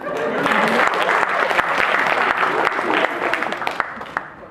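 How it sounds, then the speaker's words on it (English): A lecture hall audience of engineering students gives a round of applause for a woman faculty member, dense sustained clapping from many hands, loud and steady for several seconds before thinning out. "Can we give madam a round of applause?"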